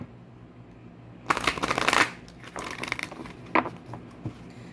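Oracle and tarot cards shuffled by hand in a close, crisp burst of riffling and flicking, followed by a few softer card slaps and rustles, with no talking.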